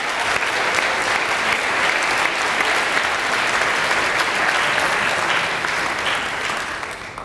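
Steady, loud applause from a graduation audience at a baccalaureate ceremony, cheering the graduating seniors; dense clapping fills the whole stretch without pause and tapers slightly at the end.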